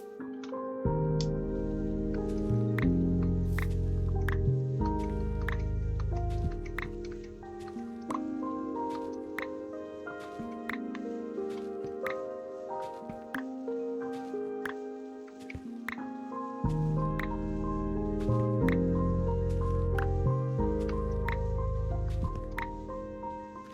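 Water drips in Minecraft, repeated short plinks falling over a steady looping game background, moderately loud and without talk.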